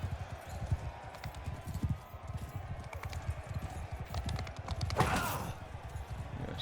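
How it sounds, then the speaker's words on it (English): Horse hooves clip-clop in Mount & Blade II: Bannerlord, a steady rapid galloping rhythm running throughout over a busy battle din, with a brief louder clatter partway through. "we can get on these horses if we can catch up to one"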